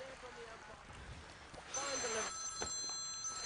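A phone rings faintly in a quiet room, its electronic tone repeating at a steady pitch as a low rustle continues behind it.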